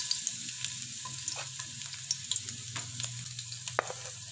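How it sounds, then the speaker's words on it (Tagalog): A hot wok sizzles steadily as garlic, onion and ginger go in to sauté for Ilokano beef papaitan, with light scraping stirs and small crackles, close and moderate with no talking. "maggisa na tayo"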